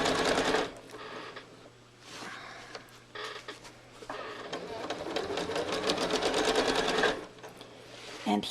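A sewing machine stitches a quilt near the binding edge, its rapid mechanical whir running in bursts that speed up and pause, with louder sustained runs between brief stops.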